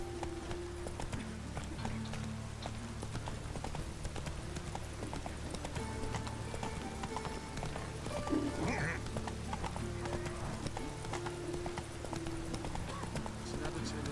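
Hooves of Roach, Geralt's horse in The Witcher 3, clip-clop steadily through the whole stretch, with a brief whinny near the middle and someone talking over the game sounds.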